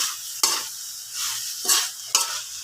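Vegetables with oyster sauce and pepper sizzle in a frying pan while being stirred in several sharp scraping strokes, each followed by a softer hiss.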